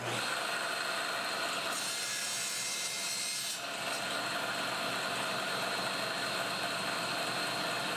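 Power saw cutting wood segments for a segmented dovetail bowl, a steady continuous whine with a slightly harsher, brighter cutting stretch in the middle of the run, no talk.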